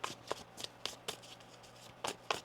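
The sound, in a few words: shuffling tarot cards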